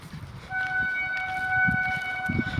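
A sustained, steady train horn sounds for about two seconds over low rumbling background noise, moderately loud and somewhat distant.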